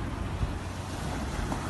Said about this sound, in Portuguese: Se você reparar as ondas, você vai ver que as ondas vêm, às vezes ela vem fraca, mas depois ela vem forte.